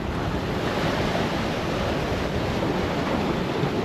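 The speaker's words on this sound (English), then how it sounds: "Sorry about the wind." Warm wind buffets the microphone on a coastline while fishing for bass, a steady loud roar of wind noise mixed with surf and ocean wash, continuous and close throughout with no talking.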